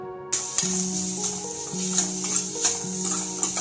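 Vegetables frying in a pan with ginger garlic paste and coriander, making a quiet hiss with light intermittent stirring scrapes, close up and without speech.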